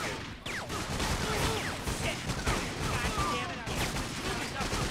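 Dense gunfire in the video game 50 Cent: Bulletproof, with rapid overlapping shots and bursts of weapon fire that stay loud and continuous throughout.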